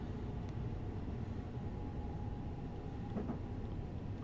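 An 8-car London-to-Brighton commuter train in a train simulator game braking on its approach into Haywards Heath station, giving a steady loud rumble of motion with a faint squealing brake tone running throughout, no voices.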